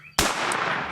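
A single loud shotgun blast fired at a wild turkey gobbler during a spring hunt, a sharp sudden crack with a long rolling echo afterward, heard after a moment of quiet outdoor stillness.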